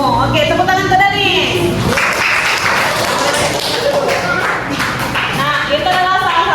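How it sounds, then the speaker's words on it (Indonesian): Fifth-grade primary school classroom clapping, a group of children applauding a classmate mid-lesson, with broadband claps running from about two seconds under and between teacher and pupil voices. "Oke, tepuk tangan ke Dani"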